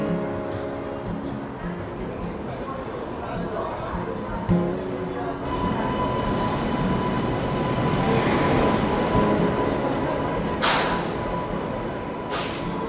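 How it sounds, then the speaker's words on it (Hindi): Central Railways Rajdhani express departs Bhopal station with tonal whine and rolling rumble building as it pulls away, short air-brake hisses cutting in, and faint background voices on the platform. "सेंट्रल रेलवेज़ की राजधानी का तो डिपार्चर हो गया भोपाल से"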